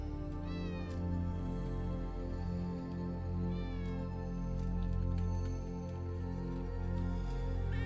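A cartoon cat in the hidden-object game Hidden Paws lets out several rising meows over a bed of busy game music, the calls clear but partly blended into the soundtrack.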